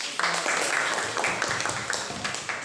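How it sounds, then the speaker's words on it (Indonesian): A class applauding at the end of a group presentation in an Indonesian classroom lesson, a dense patter of claps sustained for a few seconds at moderate loudness. "kita beri tepuk tangan dulu"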